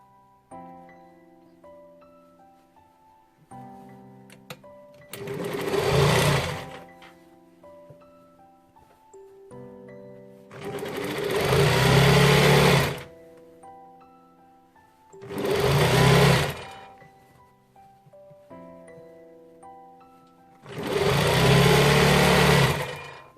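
A sewing machine stitches a round dress sleeve in four loud bursts of fast whirring, separated by quiet pauses with soft background music.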